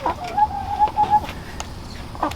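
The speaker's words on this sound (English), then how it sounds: "So I actually don't know what kind of chicken she is." A part-silkie hen clucks close by in a backyard, giving a short, steady run of soft, tonal clucks followed by a few scattered quieter ones over a faint background hum.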